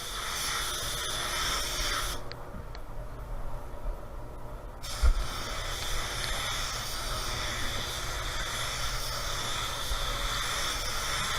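Spray gun laying a second coat of red pearl base paint on a 2018 Toyota Tacoma, a steady airy hiss running throughout with a brief pause in the spray partway through.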